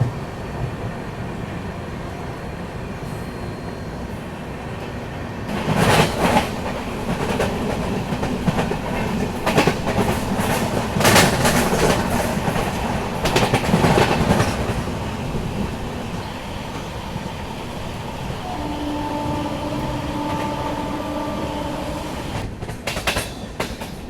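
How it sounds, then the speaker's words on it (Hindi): The Vaishali Superfast Express passes close by on the Gorakhpur–Varanasi route, with a sustained loud rumble and rhythmic clickety-clack of wheels over rail joints that swells in the middle and then settles into a steadier roll. "Vaishali superfast express"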